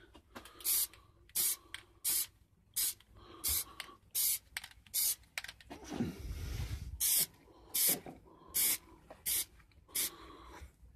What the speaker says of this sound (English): And then spray your next layer.